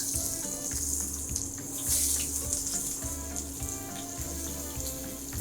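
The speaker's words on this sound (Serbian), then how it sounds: "No, ovdje ide prvo luk." Onion sizzling as it fries in hot pork lard in a pan, a steady close crackle with faint metallic stirring and no talk.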